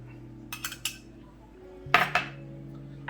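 Mashed potatoes mixed with mayonnaise in a pot: a few quick metallic clinks and scrapes of a utensil against the pot, in two short bursts over a low steady hum.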